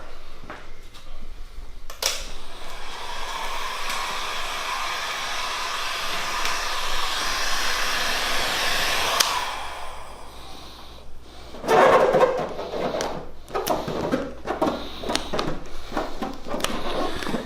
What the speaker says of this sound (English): I'm just using the heat gun to make sure if there's any minor wrinkles I didn't see beforehand